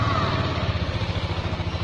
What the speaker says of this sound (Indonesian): Sekarang kita starter via HP. Sini ada perintah starter, klik. Maka mesin kendaraannya Yamaha Enek akan hidup.